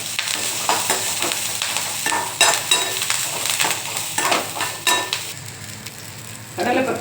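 Small onions and mustard seeds sizzle in a pan on low heat while being sautéed for chana dal chutney, with a steady frying hiss broken by repeated close scrapes and clinks of a stirring spoon.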